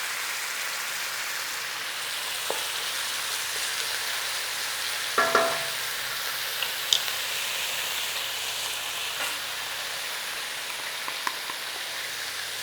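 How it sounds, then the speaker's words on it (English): Spices blooming in hot oil in a pan for a beef curry give a steady, close sizzle, with a few sharp clinks and scrapes of stirring scattered throughout. "we are just going to cook off, bloom out some spices in here for flavour"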